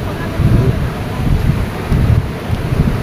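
Big ocean waves break at the shore in slow surges, with strong wind buffeting the microphone in a continuous low roar.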